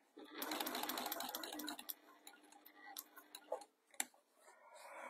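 Home sewing machine stitching a reversible fabric storage container, a close, rapid run of needle clatter for about a second and a half, then slowing into scattered ticks and clicks.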